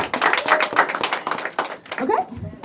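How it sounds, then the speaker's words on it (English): Hands clap in a round of applause for graduates at an Ohio media school graduation ceremony, close and uneven, with talk running through and over it. "and another round of applause."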